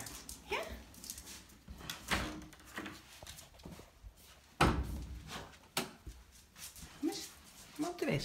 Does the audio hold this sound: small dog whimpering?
yes